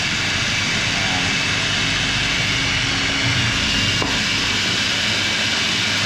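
A motorised grinder blends rendang spice paste with added water, giving a loud, continuous, even whirring drone that holds steady from start to finish.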